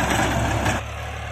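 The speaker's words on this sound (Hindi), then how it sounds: "ये आम 3600-2 से अलग इसका साउंड है," A New Holland 3600-2 tractor, with some modifications, idles with a steady low diesel throb that runs close and loud, then drops to a quieter, even hum partway through.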